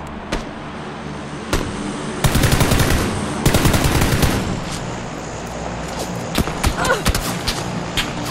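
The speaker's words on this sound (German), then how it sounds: "Schüsse auf mich, ich bin schon wieder ausgenockt." Automatic gunfire bursts in a PUBG war-mode battle: rapid rattling volleys, two longer loud bursts in the middle and scattered single shots around them, fairly close.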